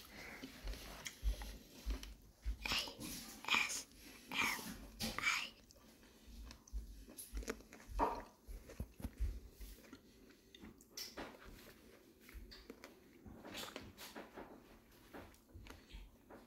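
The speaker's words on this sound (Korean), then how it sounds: "맛있게 포도를 먹었으니까" Grapes being chewed close to the mic, soft wet bites and mastication clicks in an irregular rhythm, with quiet whispering throughout.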